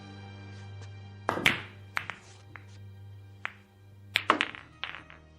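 Pool balls are struck with a cue and clack together in a radio drama game, several sharp close knocks in irregular clusters over a low steady hum.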